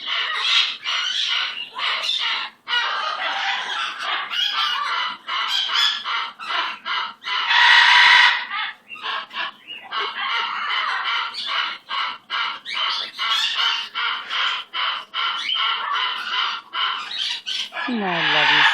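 A small green pet bird calling up close, a busy run of loud, rapid chirps and squawks with short gaps and one longer screech, while a person speaks now and then.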